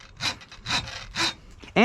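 A hacksaw cuts metal in three steady, evenly spaced back-and-forth strokes with a rasping, scraping tone, close and loud, before a sharp metallic squeal at the end.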